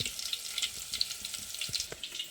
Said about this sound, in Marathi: लसूण आहे लसणाची फोडणी आहे